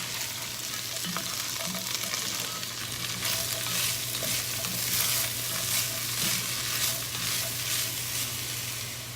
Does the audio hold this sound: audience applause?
no